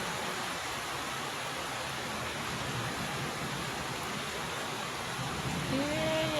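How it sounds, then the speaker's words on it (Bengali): Steady rain falling, a soft even hiss with no clear drops standing out, fairly quiet and continuous throughout. "এই আল্লাহর রহমতের বৃষ্টি।"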